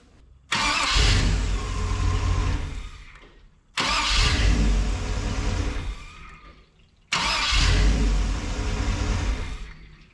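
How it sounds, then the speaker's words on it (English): New starter cranking the engine of a 1961 Chevy wagon, three separate attempts, each a sudden loud churning crank lasting about three seconds that fades before the next, no talk. "That starter sounds a hell of a lot happier than the old one did."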